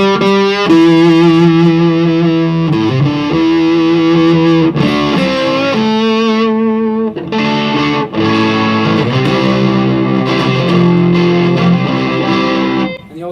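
A Tone Bender MK3-based fuzz pedal on electric guitar, played continuously as the sound moves from cleaner chords to thick sustained distortion, loud and close with no talk.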